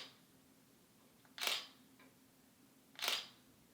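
Two crisp camera shutter clicks about a second and a half apart, each a sharp mechanical snap, the first at a slow quarter-second exposure and the second much quicker at 1/2500, alone in a quiet room.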